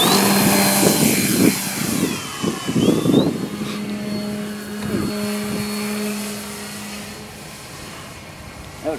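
An RC trainer model airplane takes off, its small engine whining steadily and rising in pitch, then fading as it climbs away, with people talking faintly nearby.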